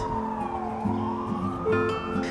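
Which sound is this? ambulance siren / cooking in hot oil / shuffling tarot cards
ambulance siren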